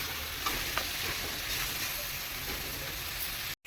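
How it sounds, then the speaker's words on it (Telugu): Steady, dense sizzling of a spice paste frying in hot oil for a jackfruit curry, a constant crackle throughout with a few faint clicks of stirring. "ఈ మిశ్రమాన్ని వేసుకోవాలి వేసుకొని బాగా ఫ్రై చేసుకోవాలి"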